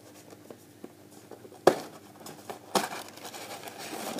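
A Christmas gift box being opened: soft crinkling and rustling of paper or cardboard, broken by two sharp tearing or snapping bursts, fairly quiet and close, with no talking.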